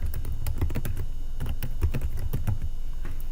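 Rapid typing on a computer keyboard, with quick irregular clicks and clacks at a steady close level, no voices.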